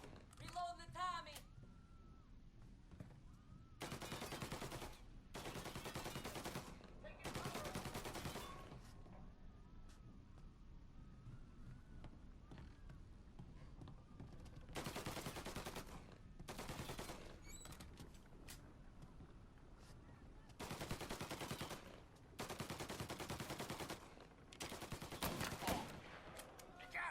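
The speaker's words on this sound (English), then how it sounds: "Reload the Tommy!" Tommy gun bursts in the game Mafia, several loud rapid-fire volleys separated by short pauses, with game sounds between bursts.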